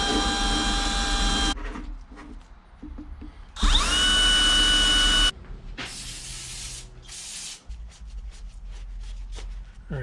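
A power-driven wire wheel whines and grinds against the mating surface of a Toyota driveshaft during a carrier bearing job, in loud bursts broken by pauses and softer scraping.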